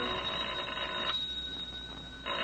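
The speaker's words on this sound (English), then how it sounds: "It's not the door, it's the phone." Telephone bell ringing in an old-time radio drama sound effect, two bursts of bright ringing separated by a short pause, close and clear with no talking.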